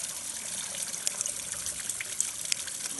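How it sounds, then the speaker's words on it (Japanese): Water flowing at a mountain water source on a stony trail descending from Kurakurayama in Yamanashi, a continuous bright trickling and gushing stream close by with small splashes, no voices. "案内、水が流れてます。"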